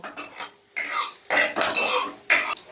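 A utensil stirs whole spices, bay leaf and cumin, tempering in ghee and oil over low heat in a pan, with loud irregular scrapes and clinks in uneven bursts.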